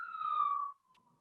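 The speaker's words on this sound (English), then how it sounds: "Pardon the sirens if you can hear those." A siren wails outside, a steady tone sliding slowly downward for under a second before cutting off, followed by a fainter trailing tone as the emergency vehicle passes at a distance.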